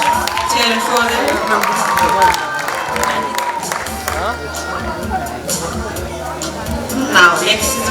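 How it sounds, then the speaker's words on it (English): A crowd at a live music show in Pune cheers and claps, a busy mix of applause, shouts and chatter, with talking mixed in throughout and a brief rise near the end. "Cheer it for them."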